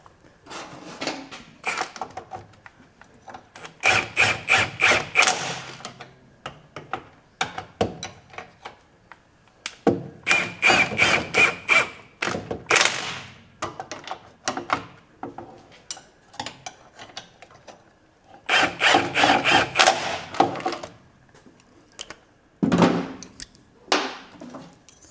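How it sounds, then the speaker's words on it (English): A nut runner winds up the polyurethane suspension bush bolts on a Land Rover Defender, with several loud bursts of rapid mechanical rattling separated by quiet pauses. "we'll be able to get nut runner in just to wind them up"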